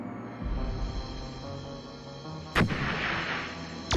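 Mortar fire in a Star Trek episode: a sharp, loud blast cuts through a dense layer of music and ambience, followed by a rumbling tail. A second hit starts right at the end.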